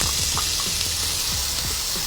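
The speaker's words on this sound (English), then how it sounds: "Gotta love that sizzle." Bacon strips sizzle in oil in a frying pan, a steady hissing crackle with scattered small pops, close and continuous with no talking.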